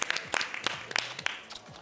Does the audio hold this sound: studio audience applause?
yes